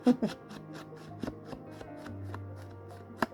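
Paper is cut with scissors while making a mini accordion file folder: a few close snips and crisp rustles, with a soft low hum underneath and no talk.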